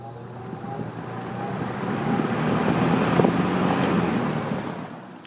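A Kmart P-23 box fan on its high setting gives a steady, broad whooshing airflow that swells slightly and then eases, with a low motor hum underneath and no talking.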